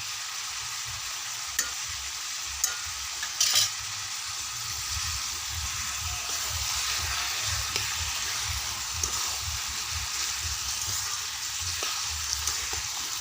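Bottle gourd, its liquid mostly cooked off, fries with ginger and cumin paste, making a low, even, continuous sizzle with a few occasional clinks of the utensil. Close but quiet, and nobody speaks.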